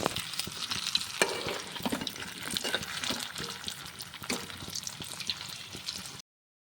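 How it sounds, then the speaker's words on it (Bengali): Desi chicken pakoras being deep-fried a second time in hot oil, with a dense, steady bubbling sizzle heard close up and a few soft knocks of stirring, with no voices. "আবারও ভেজে নিতে হবে দুবার করে ভেজে নিলে পুরো পারফেক্ট পকোড়া হয়ে যাবে"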